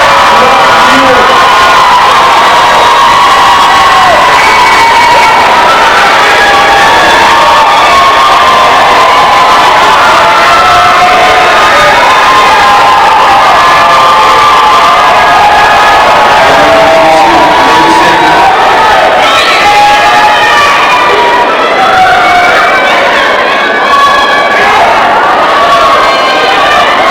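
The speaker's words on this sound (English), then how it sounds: "Turn to your parents, your families, coaches, and teachers, and applaud them for their support throughout the year." High school graduation ceremony crowd in a large venue giving sustained, loud applause mixed with cheering, whoops and shouts, steady for nearly half a minute with voices calling out throughout.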